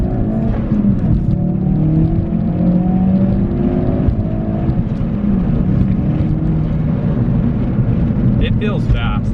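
A Stage 2 Ford Focus RS accelerating uphill in first gear from about 3,000 RPM, a loud, sustained engine roar with rising pitch heard from inside the car, with a brief clatter near the end.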